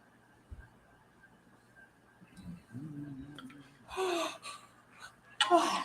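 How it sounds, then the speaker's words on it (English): A person yawns in a quiet room, giving one drawn-out, rising and falling vocal yawn with breathy gasps and exhales around it. "I can yawn every time."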